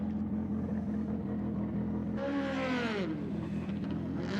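A touring race car pulls into the pits at the 1990 Tooheys 1000, its engine note briefly rising and falling as it passes close by over a steady background drone.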